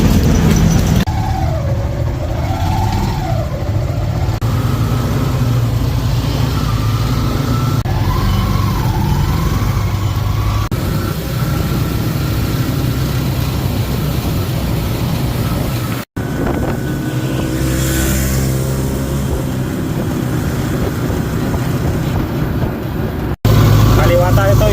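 A motorized tricycle taxi ride in the Philippines, loud, with a buzzing engine that rises and falls as it shifts, strong wind rushing past the microphone, and traffic around it.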